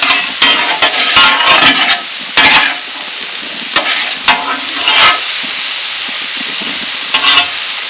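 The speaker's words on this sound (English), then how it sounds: "Meat, potatoes, onions, seasonings," Corned beef hash of meat, potatoes, onions and seasonings frying in a pan at a campsite, a steady close sizzle with scraping and stirring clatters in the first few seconds and occasional knocks later.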